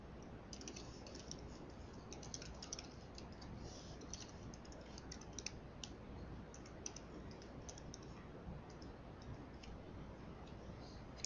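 Typing of login details on a computer keyboard, a steady run of soft, quick key clicks at close range over faint background hiss, with no talking throughout.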